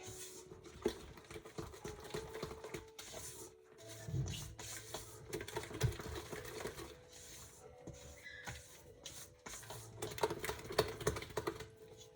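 Banana bread batter stirred with a rubber scraper in a bowl: soft, repeated tapping, scraping and patting strokes with an irregular rhythm, fairly quiet and close, with no talk.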